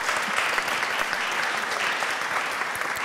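Sustained audience applause at a French-language panel on AI and information integrity, thick continuous clapping from a crowd, steady and even throughout with no voices on top.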